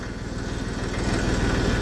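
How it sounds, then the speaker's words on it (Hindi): A small Massey Ferguson 35 tractor engine running at a steady, loud, close rumble with an even throb and no talking. "ट्रैक्टर स्टार्ट ही छोड़ दिया है"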